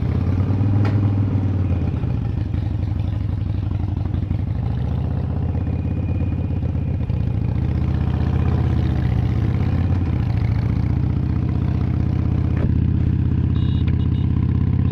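A 2015 Harley-Davidson Iron 883 motorcycle with its V-twin engine rumbling steadily and close, a low, even throb that holds throughout with a brief clatter partway in.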